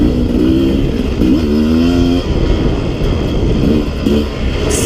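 Sherco 300 SE-R dirt bike ridden hard along a single track trail, its two-stroke engine revving loud and close throughout, pitch climbing and dropping with gear changes and throttle.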